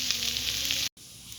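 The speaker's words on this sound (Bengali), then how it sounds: "কলার মোচাটা কিন্তু আমার খুব ভালোভাবে ভাজা হয়ে গেছে। দেখুন তেল ছেড়ে দিয়েছে নারকেলের দিক থেকে।" Banana flower frying in oil with grated coconut, a close steady bright sizzle that cuts out abruptly and returns as a faint hiss.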